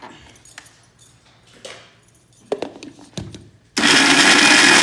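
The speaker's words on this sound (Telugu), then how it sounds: "చింతపండు పండు మిరపకాయ కలిపి మిక్సీకి మెత్తగా వేస్తాను." A kitchen mixer grinder blends tamarind and ripe red chillies into a pickle. It bursts on loud and steady near the end, after a few clinks and handling knocks.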